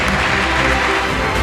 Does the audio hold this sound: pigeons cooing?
no